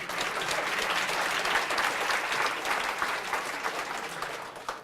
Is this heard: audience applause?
yes